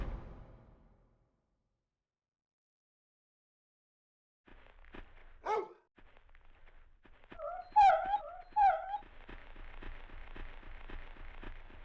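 A dog in the PS1 game Clock Tower gives a few short barks and whimpers after a silent stretch, over a thin, rain-like hiss of background noise.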